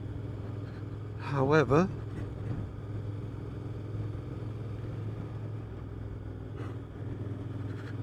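A Suzuki GSX-8R motorcycle idles and rolls slowly through a housing estate, its engine a steady low hum throughout with someone talking briefly over it early on.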